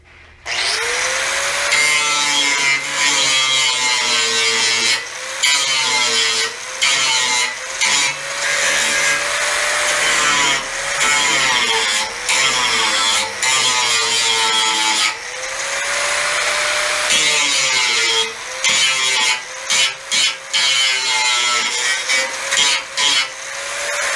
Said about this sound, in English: Just cleaning up all the old weld.